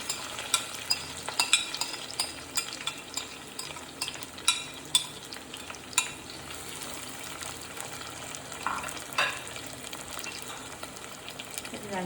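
Sliced shallots, ginger, garlic and green chili crackle and fry in hot oil with mustard seeds for a Kerala fish curry, with steady broadband sizzling, scattered sharp pops and a few stirring scrapes close by, no voices.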